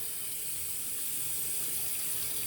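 A bathroom tap runs in a steady stream to wet a shaving brush, a continuous hissing splash at moderate level that never pauses, with no one speaking.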